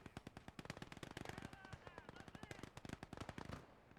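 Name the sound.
machine gun suppression fire in video game Gates of Hell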